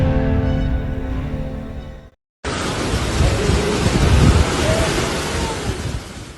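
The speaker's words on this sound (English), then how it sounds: "Super Typhoon Sinlaku, one of the strongest storms of 2026, is unleashing catastrophic conditions across U.S. island territories" Super Typhoon Sinlaku lashing Pacific U.S. island territories with 245 km/h winds: a loud continuous roar of driving wind and heavy rain, briefly cut off, then returning as dense, surging rushing noise.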